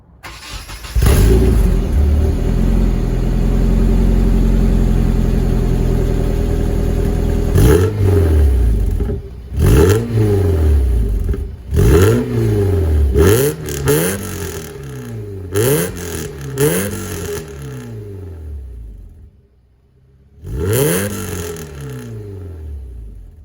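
Nissan 240SX fitted with ISR headers idles loudly and then is revved repeatedly, sharp throttle blips rising and falling in pitch one after another, with a short quiet gap before a final rev, close and without talk.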